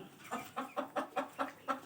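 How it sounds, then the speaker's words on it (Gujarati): A rooster clucks in a quick, regular series of about seven short calls, fairly faint and alone. "જુઓ આ છે પંદરસો રૂપિયાનો એક કૂકડો"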